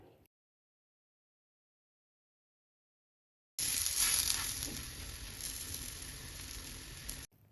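A folded frankie wrap fries in a little oil in a pan, giving a steady close sizzle that starts abruptly after a stretch of silence and holds for several seconds before cutting off.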